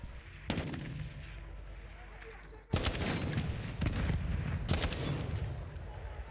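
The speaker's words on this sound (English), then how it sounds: "Somebody firing at us?" Gunfire erupts in Black Ops 6, with loud rapid bursts and sustained volleys of automatic fire that come and go in waves. A faint in-game voice sits underneath.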